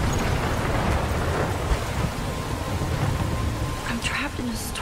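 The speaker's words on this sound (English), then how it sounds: "it's raining, you can say that much" Heavy rain pours steadily with a dull rumble of thunder in a stormy scene from the video game Life Is Strange, a loud continuous wash that ends in brief faint tones.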